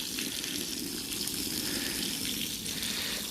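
Rinse water gushes and rushes steadily over a wool rug during carpet cleaning for a urine stain, a loud close continuous wash with no talk.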